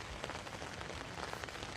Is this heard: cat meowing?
no